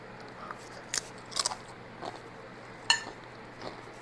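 Someone eating taco pasta close up, faint scattered bites and soft crunches with light clinks of a utensil against a dish over a quiet background.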